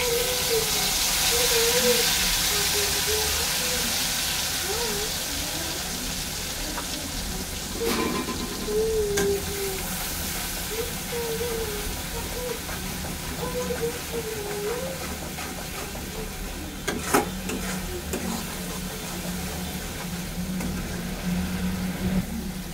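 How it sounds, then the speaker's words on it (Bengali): Mustard seeds, cumin, chili, turmeric, salt and spice paste sizzling in hot oil for a bitter gourd dish, a steady close hiss with occasional pops while someone talks over it. "যা ফাটছে, সর্ষে, জিরে, লঙ্কা, হলুদ, নুন। তো আমি দিয়ে দিচ্ছি মশলাটা।"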